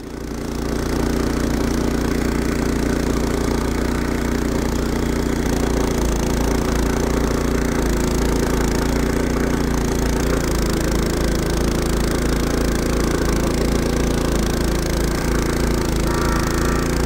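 An Evoline Standard series two-stage snowblower with a 6.5 hp engine, electric starter and headlight, running loud and close with a steady, continuous mechanical roar and rattle, no speech.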